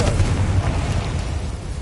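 A Confringo blasting spell exploding in Hogwarts Legacy, a loud, close, rumbling boom that fills the short moment with low-end impact and fades slightly toward the end.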